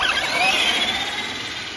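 A brushless Traxxas Rustler RC car launches at full throttle, its electric motor giving a loud rising whine that sweeps upward and fades as it pulls away over a short burst.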